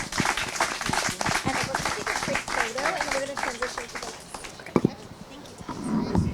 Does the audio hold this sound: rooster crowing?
no